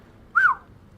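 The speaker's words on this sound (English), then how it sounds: "Sorry for the whistle, folks." One short human whistle, a quick rising-then-falling note, rings out clearly and alone during a casted VR tactical shooter match, with no talk around it.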